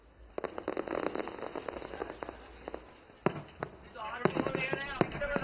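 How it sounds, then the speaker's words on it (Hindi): Green fireworks pop and crackle in irregular bursts at a distance over the Ayodhya Deepotsav Diwali festival 2025, with voices joining the sharp bangs near the end. "आसमान पर होती हुई ये आतिशबाजी"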